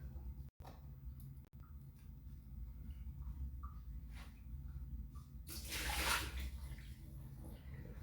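Water running from a kitchen tap as a matcha whisk is rinsed, a soft steady splash that swells louder for a couple of seconds near the end.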